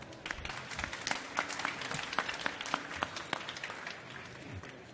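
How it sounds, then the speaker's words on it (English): An audience claps for a jury member at a startup pitch competition held at the IFA trade fair. The applause is steady and moderately loud, with sharp individual claps throughout and no talking. "Also, a round of applause."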